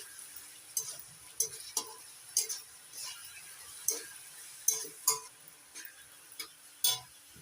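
Vegetables with soy sauce and other sauces are stirred in a pan, making a series of sharp, irregular scraping clicks about once a second over a faint background sizzle.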